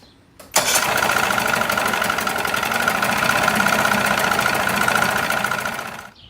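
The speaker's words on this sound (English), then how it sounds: "when I had that motor running, it didn't quite sound like it was running on both cylinders" A two-cylinder boat motor under restoration starts with a loud catch and runs roughly and unevenly for several seconds, with a coarse, steady rattling drone that misfires as if not firing on both cylinders, then cuts out.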